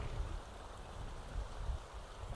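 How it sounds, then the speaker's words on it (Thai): Water spilling over a small overflow weir makes a low, even, distant-sounding rush, quiet and unbroken for the whole moment. "เป็นเป็นฝายน้ำล้นน้อยครับผม"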